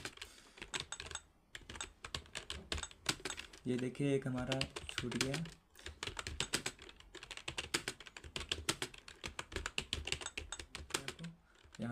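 Rapid, steady clatter of computer keyboard keys in a Typing Master 11 typing tutor lesson, continuous close keystrokes running under someone talking throughout.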